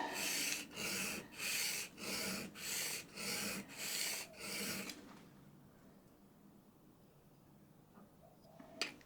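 A cabinet scraper is sharpened on the coarsest grit abrasive, six even rasping strokes in a steady back-and-forth rhythm, close and clear, followed by near silence with a faint knock at the end.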